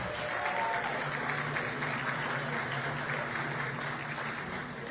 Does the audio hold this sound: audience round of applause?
yes